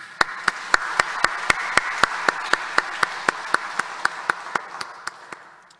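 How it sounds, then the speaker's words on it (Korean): A church congregation claps to give glory to God: a steady, evenly spaced beat of sharp claps rides over a continuous wash of applause that slowly fades near the end. "우리에게 자유와 독립을 주신 하나님께 영광의 박수 올려드리겠습니다."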